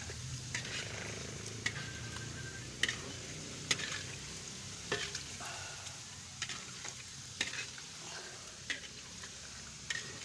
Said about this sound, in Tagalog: Sandok-sandukin para hindi masunog ang saging.